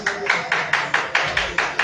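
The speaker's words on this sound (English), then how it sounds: "That is a round of applause from some of the around 30 fans who are watching" About 30 watching fans give a light round of applause, with eight evenly spaced, distinct claps rising and fading in a steady rhythm and no talking.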